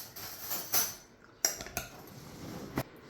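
A spoon clinks and scrapes against a dish of Fritos chili pie taco salad, giving a few sharp, close clinks over a soft clatter, with no talking.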